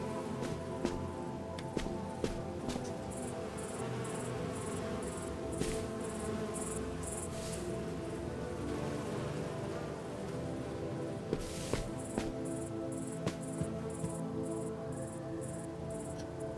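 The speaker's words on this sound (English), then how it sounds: "Sounds like there are bees or flies or something." Faint, steady insect-like buzzing of bees or flies inside a video game, with a soft continuous drone and repeated high chirring pulses over quiet ambient game sound, plus a few small clicks.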